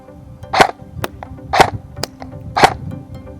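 Three sharp shots from a Double Eagle M904G airsoft rifle, evenly spaced about a second apart, each a loud snappy crack with faint clicks between, close by with no talking.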